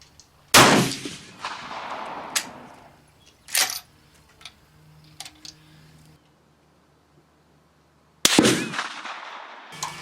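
A rifle chambered in 7.5x55 Swiss fires at an outdoor range, a sharp loud report with a decaying tail, followed by quieter mechanical clicks and a second loud blast near the end.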